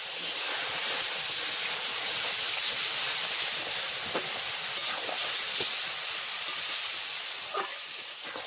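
Water poured into a pan of frying semolina and carrot upma with salt, giving a steady, fairly soft hiss and sizzle with faint crackles throughout.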